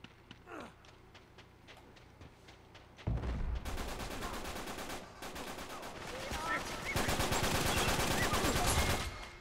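Gunfire from Uncharted 3 multiplayer: sparse single shots give way to dense, loud automatic bursts rattling almost continuously, with brief pauses between volleys and rapid repeated cracks near the end.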